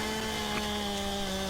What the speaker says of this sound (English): It's called a chainsaw.